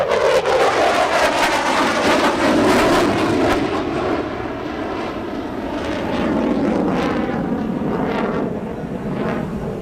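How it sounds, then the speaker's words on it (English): A French Air Force Rafale fighter jet flying a solo air show display, a loud sustained jet roar that swells and eases slightly throughout, with no voices over it. "This display is provided by Capitaine Jean-Guillaume Martinez of the Armée de l'Air Rafale Solo Display."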